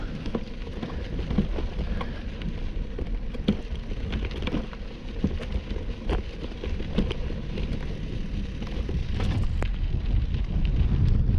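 Steady wind buffets the microphone outdoors, a low rumbling roar with scattered crackles and gusts that grow a little stronger toward the end.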